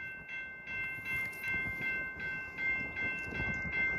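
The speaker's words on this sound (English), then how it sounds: "It's a freight train! It's a freight train!" A freight train rumbles past at a distance with a steady, rolling roar and faint rhythmic pulsing, while a high horn-like tone holds through the whole stretch.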